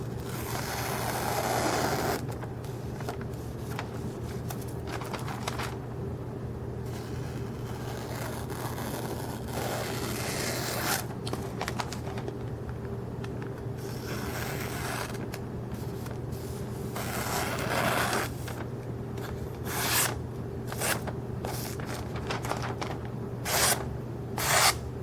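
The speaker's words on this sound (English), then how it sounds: "here's a sheet of Phonebook paper with a knife I just sharpened on the GATCO system." A knife freshly sharpened on a GATCO diamond sharpening system slices through a sheet of thin phonebook paper, making a string of soft, quick rasping swipes close to the microphone over steady background hiss.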